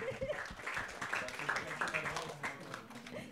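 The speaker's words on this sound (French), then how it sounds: "je vous propose qu'on applaudisse tous Cédric pour le mettre bien à l'aise" A podcast audience claps together for a guest named Cédric, a steady patter of many hands that runs for a few seconds at moderate loudness, with voices talking over it.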